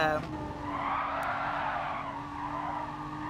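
Race car in a racing video game braking hard, tires skidding and squealing in one continuous screech over a steady engine drone, with a commentator talking over it.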